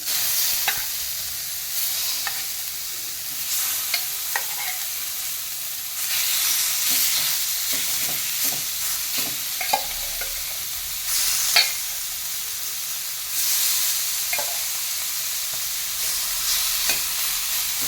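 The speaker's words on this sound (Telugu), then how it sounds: "ప్యాన్ చాలా హాట్గా ఉంటుంది సో ఈ వేడి మీదే మనం చికెన్ పీసెస్ అన్నీ పక్క పక్కన వేసేసుకోవాలి" Chicken pieces laid into a very hot AMC pan sizzle strongly, with surges of frying hiss and repeated knocks and scrapes as the pieces are placed and moved.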